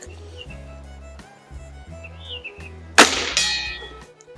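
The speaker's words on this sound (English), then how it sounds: "we'll go ahead and take a shot at the bell and see how we do" A Diana 460 Magnum air rifle fires a pellet that strikes a metal bell, giving one sharp crack followed by a bright ringing clang that fades over about a second, with a low steady hum underneath.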